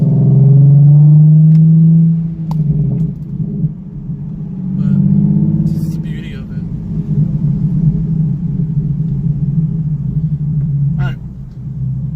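A Nissan 370Z fitted with ISR resonated test pipes gives a deep, droning exhaust rumble, loudest at the start and then settling to a steady close hum, with a voice talking over it at times.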